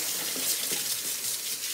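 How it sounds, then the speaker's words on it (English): Food rinsed under a running kitchen tap, a steady close hiss of splashing water throughout with no talking. "We give that a little rinse."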